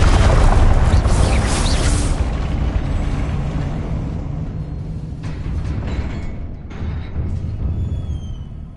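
A Confringo fire spell explodes in the Hogwarts Legacy video game: a loud, roaring blast that swells at once and then rumbles and fades slowly over several seconds, alone with no speech.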